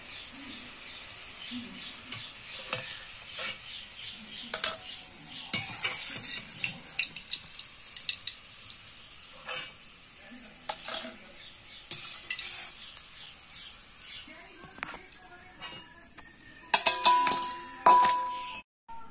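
Soybean kofta balls frying in a pan of hot oil, a soft steady sizzle broken by scattered clinks and scrapes of a spatula, with a burst of louder clatter near the end.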